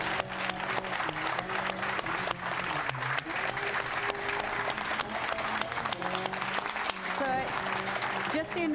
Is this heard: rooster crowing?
no